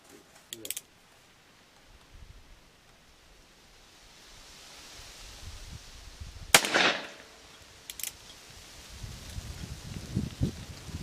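A single loud gunshot from a Colt Single Action Army revolver in 32-20 firing test ammunition outdoors, a sharp crack standing out over quiet background noise with a few faint clicks before and after.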